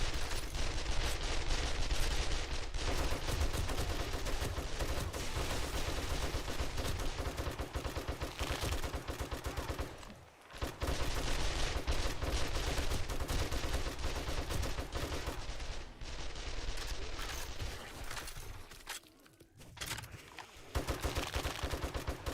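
Sustained automatic gunfire in the survival video game 7 Days to Die, dense rapid bursts nearly nonstop and loud, with two brief pauses between long volleys.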